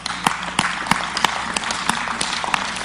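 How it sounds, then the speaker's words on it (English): A church audience claps in a steady, evenly spaced rhythm, sharp individual claps standing out over a dense background of applause. "I know you're clapping"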